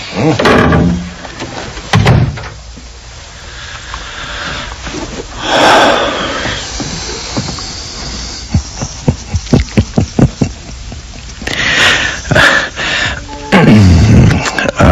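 A door opens and closes in an old suspense radio drama, with a few thumps and clicks amid rustling movement and footsteps, close and fairly loud, while voices speak around it.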